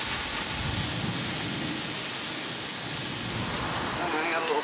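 Meat searing on a hot grill with juices running out, a steady loud hissing sizzle that continues without pause, with someone talking over it.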